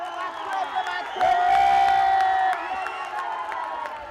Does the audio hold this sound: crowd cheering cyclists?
yes